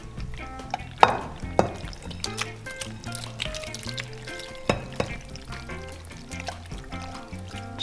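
Tuna pasta scooped into a Pyrex oven dish, soft wet squelches and slides with a few sharp clinks of a utensil against glass, heard up close.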